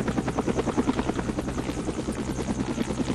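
A fire department helicopter in the Roblox video game gives a loud, continuous engine drone with a rapid, even rotor chop throughout.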